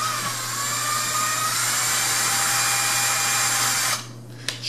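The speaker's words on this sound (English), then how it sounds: "This thing is a little bitty drill bit, router bit thing." A small router bit spinning in a handheld router, a steady high-pitched whine with a constant low hum beneath, running loudly for about four seconds before cutting off and winding down.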